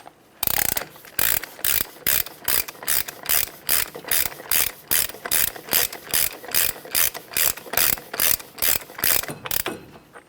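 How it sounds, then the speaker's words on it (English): Hand ratchet clicking steadily in quick bursts while tightening the front axle nut on a 2012-2015 Honda Civic during a strut replacement, about twenty close, loud rhythmic strokes with no talking. "We're going to carefully bottom it out by hand using a hand tool."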